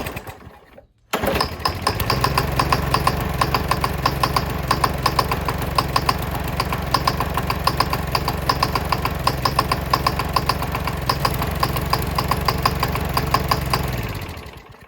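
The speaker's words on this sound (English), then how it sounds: "there's a loud knocking sound that just doesn't sound too great" Gas lawn mower running on diesel fuel with several spark plugs fitted, its engine knocking hard in a steady rapid rhythm after starting up, loud and close with no talk.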